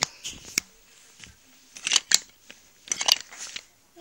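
Several crisp snips of scissors cutting, in small clusters with quiet gaps between them, close by.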